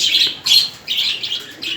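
Large pet parrots kept in a sheltered enclosure give shrill, harsh calls in several quick bursts, loud and close with short gaps between them.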